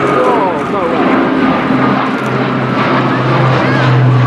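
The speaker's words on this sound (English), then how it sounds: "the aileron roll is a highly demanding maneuver for such an heavy carrier as this" Heavy carrier aircraft rolling through an aileron roll at the RAF Fairford air show, engines giving a loud, steady drone that swells slightly toward the end, with a commentator speaking over the top.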